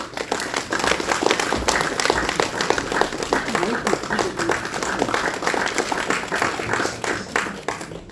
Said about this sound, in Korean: 따뜻한 박수로 환영해